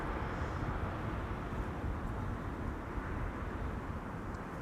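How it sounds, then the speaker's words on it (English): Privilege Style Airbus A321 flying for Transavia arriving at Amsterdam Schiphol Airport from Madrid, a steady low jet roar from a distance with no voices. "Privilege Style A321 flying on behalf of Transavia, arriving from Madrid in España."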